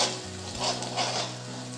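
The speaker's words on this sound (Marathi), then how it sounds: "आता मी हिंग टाकते" Asafoetida dropped into hot oil already frying chillies and curry leaves for dahi pohe chivda, giving a steady close sizzle with a couple of soft swells and a low background hum, no talking.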